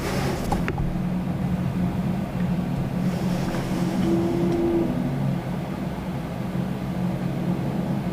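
A Boeing 787-9 Dreamliner moves at Toronto Pearson airport, its jet engines a steady, distant low rumble with a faint droning tone, no voices heard.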